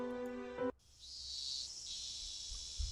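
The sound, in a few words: chorus of cicadas in video game Higurashi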